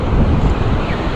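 Big ocean waves wash onto a beach on a Mexican desert coast, heard as a continuous loud, close rumble of surf mixed with heavy wind noise on the microphone.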